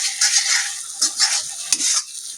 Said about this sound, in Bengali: পেঁয়াজ রসুনের সাথে কাঁচা লঙ্কার সাথে ভালো মতো করে মিশিয়ে নিয়েছি